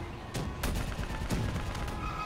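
Rapid gunfire rattles through a battle in Call of Duty: Black Ops 3, with dense overlapping shots and bursts forming a continuous loud barrage.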